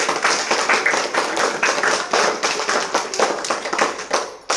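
An audience claps in honour of a guest at a Gandhi and Shastri Jayanti gathering, with rhythmic, fairly close clapping in uneven bursts throughout and no talk over it.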